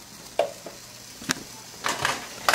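Green salsa going into a pan of hot oil, with a low sizzle broken by a few sharp bursts of spattering and clinks of a spoon, close up and without talk.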